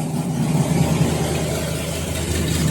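A 1964 Ford Falcon car engine idles steadily up close, a loud, continuous low rumble with a slight uneven throb and no talking over it.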